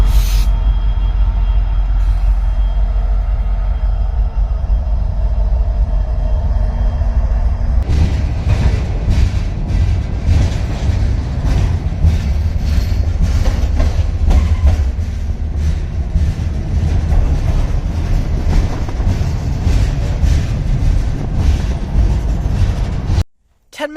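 A moving freight train rumbles heavily from close by, low and loud, with rhythmic clanks and rattles of the cars on the rails growing denser after the first few seconds.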